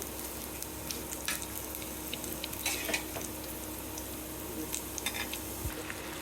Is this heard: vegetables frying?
yes